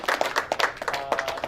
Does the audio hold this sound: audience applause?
yes